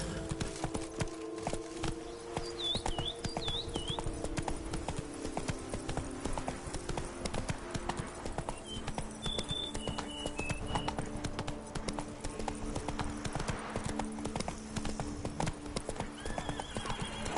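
Horse hooves clip-clop at a steady galloping rhythm in The Witcher 3: Blood and Wine, loud and continuous throughout, with occasional neighs and whinnies and game ambience; no talking.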